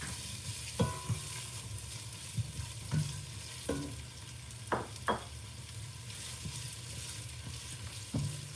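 Onion sizzles in a pan for vegetable spring rolls, a steady close frying hiss broken by occasional scrapes and knocks as it is stirred.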